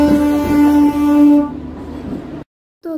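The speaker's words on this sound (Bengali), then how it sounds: "ট্রেন যাচ্ছে।" A train passing a closed railway level crossing, loud and close, with a sustained horn blast at the start before the rumble fades out into a brief silence near the end.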